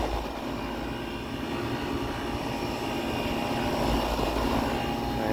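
An Aire-Flow AFAIR10 air conditioner runs with a steady, moderate mechanical hum and airy whoosh, a constant drone heard up close without talk.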